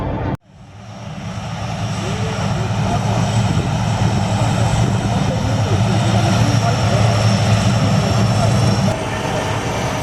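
A T-34 propeller plane drones loudly and steadily through an aerobatic roll at the EAA Oshkosh airshow, with faint voices in the background.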